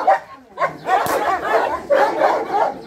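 Training dogs barking and yelping in a burst of overlapping, close, loud barks, each with a strained, excited edge, one after another.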